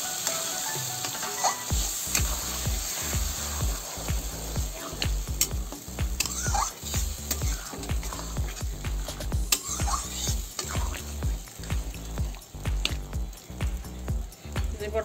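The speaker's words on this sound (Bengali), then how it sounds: "এই যে বটনা দিয়ে আর একটু কষাই নেব বটনাটা" Boiled peas are stir-fried with a spice masala in a pan, giving a continuous close sizzle. Rhythmic low scraping strokes of the spoon repeat steadily throughout, with occasional clinks against the pan and no clear talk.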